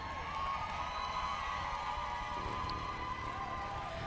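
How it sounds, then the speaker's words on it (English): A graduation ceremony audience claps and cheers in a steady, distant-sounding wash of applause with crowd noise that holds evenly throughout. "Are you going to clap better than that"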